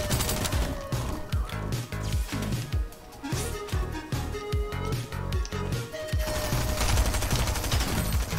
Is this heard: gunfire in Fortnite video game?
yes